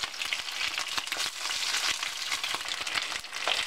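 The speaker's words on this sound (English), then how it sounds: "keep flipping the oxtail over, make sure we get it nice and brown on all sides" Oxtail pieces browning in a hot pan for stew, a steady, close, dense sizzle and crackle with occasional sharper pops as the meat is turned, no voices.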